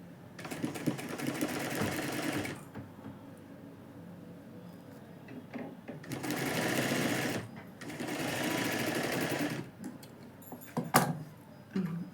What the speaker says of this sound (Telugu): నేను ఒకసారి కుట్టి చూపిస్తా దగ్గర కదా.